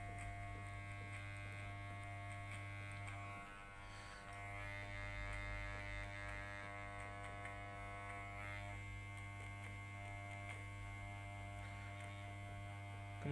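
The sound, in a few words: electric hair clippers cutting hair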